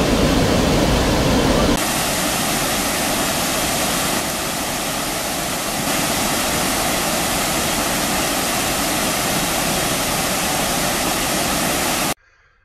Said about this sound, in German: Da ist der dosende Wasserfall